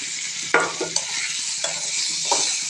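Oil and onions stirred in a pan for a Bengali tengra fish dopiaza, a steady frying hiss broken by several sharp scraping strokes of the spoon, close and moderately loud with no voices.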